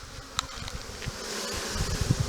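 Honeybees being shaken down into a newly installed hive give off a faint, airy buzzing hum, with a few brief louder bumps and knocks from the hive equipment toward the end.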